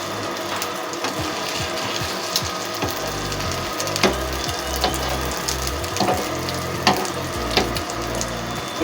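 Shami kabab patties sizzle steadily as they fry in a pan, with close crackling and occasional soft clicks and scrapes under a continuous hiss.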